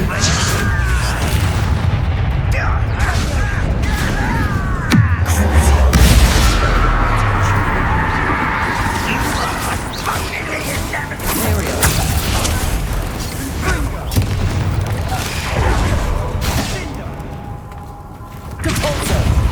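Repeated spell explosions in the Hogwarts Legacy video game, including Confringo and Bombarda blasts, loud booming bursts and crashes in quick succession with a deep rumble in the middle, mixed with voices.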